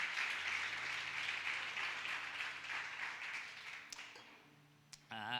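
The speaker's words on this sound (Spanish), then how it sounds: "Denle un aplauso al Señor fuerte por eso." A church congregation applauds steadily, the dense clapping gradually fading out over a few seconds before the room falls quieter.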